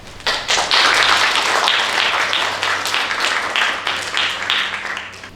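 Audience applause at the 2025 Green Building Day award ceremony, crisp close clapping from a modest crowd with distinct individual claps, strong for several seconds and then thinning out toward the end.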